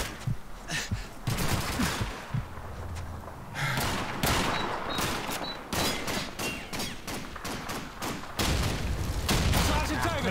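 Enemy gunfire in Call of Duty 2: loud, close bursts of rifle and machine-gun fire crack repeatedly and almost without pause, with heavier booms mixed in.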